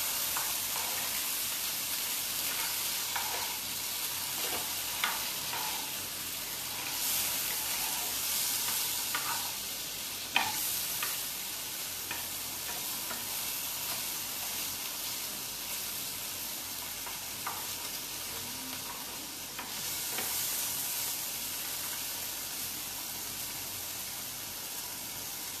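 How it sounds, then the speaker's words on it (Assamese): Amul paneer frying in a pan, a steady close sizzle with occasional stirring scrapes and small clicks running through the whole stretch, no talking. "পনীৰখিনি মই অকণমান ভাজি ল'ম,"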